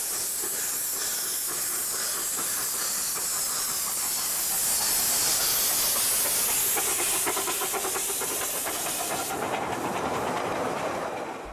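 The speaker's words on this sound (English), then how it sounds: "Two steam locos were in use," A steam locomotive at a heritage railway releases a loud, continuous hiss of steam close by, with faint rhythmic clicking of rail wheels underneath and no voices.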